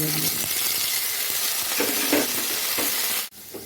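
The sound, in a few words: vegetables frying and being stirred in a pan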